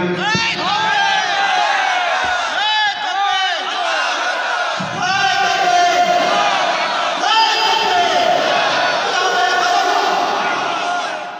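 A large crowd at a religious zikr gathering shouts together in unison, loud sustained massed voices rising and falling in waves with long held calls that fill the space.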